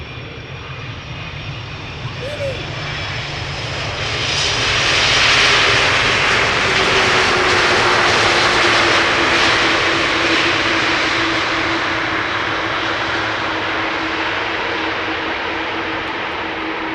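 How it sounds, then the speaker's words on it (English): Boeing 737-800 arriving at Amsterdam Schiphol from London Heathrow, its jet roar swelling to a loud peak as it passes close, then a sustained engine whine slowly fading. "we have a 737-800 arriving from London Heathrow"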